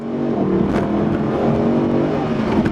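The 6.2-liter V8 of a 2013 Mercedes-Benz SLS AMG GT coupe rumbles loudly and steadily close by, with a deep, throaty burble that holds through the whole stretch.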